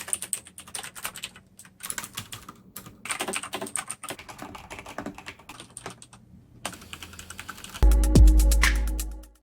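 Typing on a Cherry DW 3000 membrane keyboard, with steady, dense, rapid keystrokes close up for most of the stretch, a short pause, then a louder, heavier burst of low thumping near the end.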